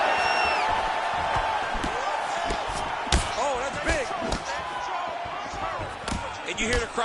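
A UFC 5 video game crowd roars and whoops in reaction to fighters trading punches, with sharp thudding impacts cutting through and a commentator talking over the noise.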